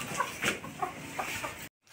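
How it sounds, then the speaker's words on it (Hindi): Chicken clucking in a home garden, several short close clucks in quick succession, fairly loud, ending in a brief silence. "मुर्गी को परेशान कर रही है।"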